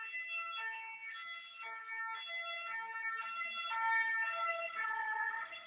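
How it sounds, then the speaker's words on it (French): Wailing siren, steady and alternating in pitch, playing alone at moderate volume with no talk over it. "Ça me permet de faire passer la sirène."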